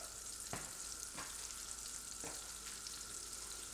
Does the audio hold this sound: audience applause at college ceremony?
no